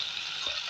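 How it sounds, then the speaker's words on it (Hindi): Onion and garlic frying in a pan for a fried okra dish, a steady soft sizzle across the brief moment, moderately quiet with no voices. "इसको फ्राई करेंगे।"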